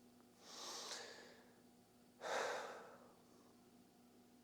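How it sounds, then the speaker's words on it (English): Two slow, deep breaths close to the microphone, a long inhale followed after a pause by a fuller, airy exhale, soft and unhurried in a quiet room. "I want you to just take a deep breath with me"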